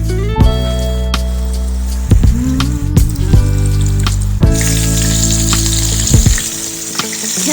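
Brussels sprouts sizzling and spattering in hot oil in a skillet, a steady crackle that grows brighter partway through, with music playing over it.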